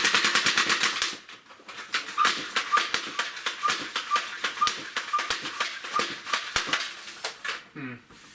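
Nerf Rapid Fire 20 blaster emptying a full load of darts: a fast, steady string of sharp pneumatic pops, close and loud, ending with a short mechanical rattle.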